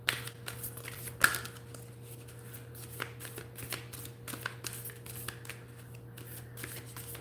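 Tarot-style advice cards shuffled by hand, a steady run of soft riffling clicks and taps close up, with a faint steady hum beneath and no talking.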